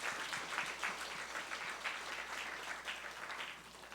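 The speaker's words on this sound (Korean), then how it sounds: "우리 박수로 축복했으면 좋겠어요." Church congregation at a Sunday worship service applauds to bless a newcomer, a soft, dense wash of many hands clapping together, steady and somewhat distant for a few seconds, with no talking over it.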